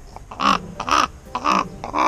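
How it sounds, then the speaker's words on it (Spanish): A crow at a zoo in Cantabria caws loudly and close by, giving four harsh calls in an uneven rhythm with short gaps between them, with no talking. "Es un cuervo."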